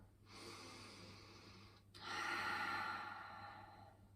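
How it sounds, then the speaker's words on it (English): Two slow breaths during a yoga practice, an airy exhale followed by a fuller inhale, close and quiet over a low steady hum. "Breathing here."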